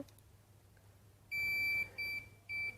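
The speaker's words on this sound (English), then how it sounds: "It will beep if it doesn't have contact." Three high-pitched electronic beeps, the first longest, the next two shorter, sounding clearly over a quiet background.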